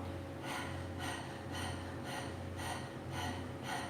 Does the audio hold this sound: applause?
no